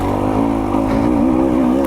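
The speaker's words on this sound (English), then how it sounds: "And listen to the thing just lug and tractor." A 2024 KTM 300 XC-W dirt bike engine lugs at low revs, a steady throaty putter with a deep pulsing drone, close and loud with no talking.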